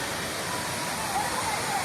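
Panchalinga waterfall in the Thirumoorthy hills makes a constant, dense roar of falling water, loud and unbroken throughout, with a voice faintly present beneath the rush.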